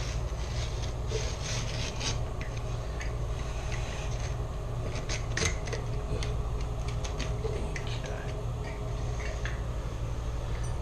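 Steady scraping and rasping of a utility blade dragging through carpet along a metal gripper strip, with scattered small clicks and ticks over a constant low rumble, close and continuous.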